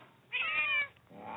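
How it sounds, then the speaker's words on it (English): One clear, mid-length cat meow, fairly close and rising then falling, over a faint low background hum with no voices. "we all have our cats making their noise"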